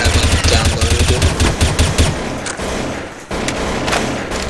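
Rapid bursts of automatic gunfire crackle loudly through a Counter-Strike: Source match, with dense overlapping shots in the first half and scattered reports after a brief lull.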